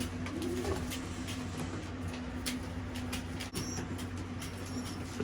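Newly weaned young racing pigeons in a loft coo quietly under a constant low hum and background rumble, with scattered light clicks and shuffles.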